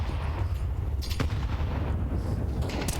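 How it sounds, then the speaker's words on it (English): Sustained gunfire and grenade explosions from a round of Counter-Strike on the Vertigo map, with a barrage falling on the ramp, forming a dense continuous rumble that runs the whole stretch with sharper bursts at intervals. "Little artillery barrage going down on ramp"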